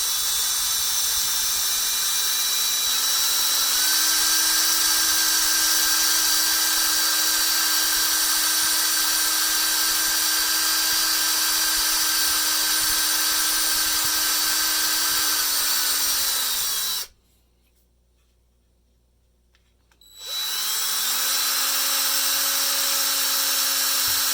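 A power drill whines steadily at high speed while drilling into metal on a German G43 rifle, drops briefly in pitch under load, stops for a few seconds, then spins up again.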